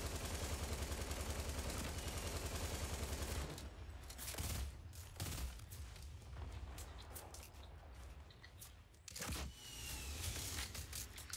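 Rapid gunfire in Fortnite's 50 v 50 mode starts as a dense, continuous automatic burst and then breaks into scattered, sharp shots and cracks over a busy game mix.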